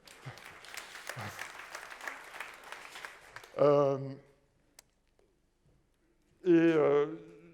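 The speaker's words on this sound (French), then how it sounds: "Bruno, tu peux te lever pour qu'on t'applaudisse aussi" Applause from the audience at a success-themed magicians' congress, a dense patter of clapping for about three and a half seconds before it stops and someone speaks in two short bursts.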